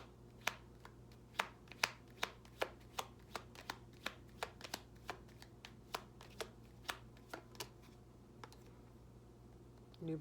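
Oracle cards shuffled in quick bursts, giving a run of sharp riffling snaps spread across the stretch, close and fairly quiet over a steady low hum.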